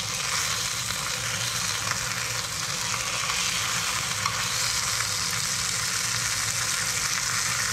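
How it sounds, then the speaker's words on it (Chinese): Fish slices dry pan-fry in a hot pan as their skin crisps, producing a dense, loud, unbroken hiss of sizzling fat that holds steady throughout with no other sounds. "煎一煎就好了。"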